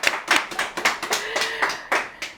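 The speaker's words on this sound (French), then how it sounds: "On applaudit Aïssata." A small studio audience at a book club broadcast claps for a guest author, a modest round of distinct, fairly quick hand claps from a handful of people, close and clear with no talk over it.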